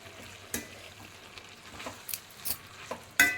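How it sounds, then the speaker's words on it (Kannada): Chopped tomatoes frying with onions in a pan, a soft continuous sizzle broken by several sharp stirring scrapes and knocks, close and alone with no voices. "ಇದಕ್ಕೆ ನಾನು 3 ರಿಂದ 4 ಟೊಮೆಟೊ ಹೆಚ್ಕೊಂಡು ಇದನ್ನು ಹಾಕ್ತಾಯಿದ್ದೀನಿ"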